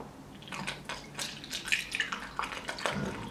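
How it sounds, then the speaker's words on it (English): Cold tap water flushes through a Lomo developing tank with a spiral used for Super 8 film, giving irregular splashes, drips and sloshing close by, moderately loud with no talking. "and now I just flush it out with cold water."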